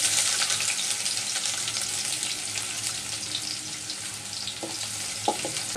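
Crushed garlic and a small onion frying in hot oil in a frying pan make a loud, dense, continuous crackling sizzle close up, with a faint tap near the end.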